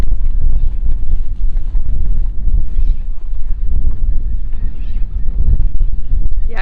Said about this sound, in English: it gets very windy around this side